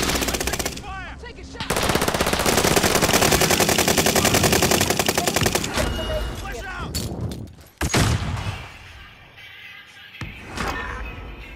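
Sustained automatic gunfire from a Call of Duty: Modern Warfare match, loud rapid bursts for most of the span, then a heavy blast and scattered shots with distant battle noise.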